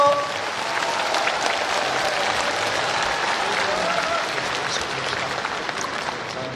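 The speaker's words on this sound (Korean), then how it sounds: "여러분 사랑의 큰 박수를 주십시오" Warm, full applause from a large audience at a book launch talk concert in a hall, a steady wash of many hands clapping at even loudness throughout before easing slightly near the end.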